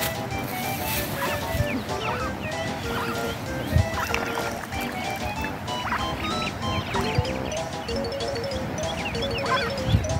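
A family of ducks is being fed at a lakeside, giving a continuous, moderately close chorus of high peeps and quacks over a soft watery background.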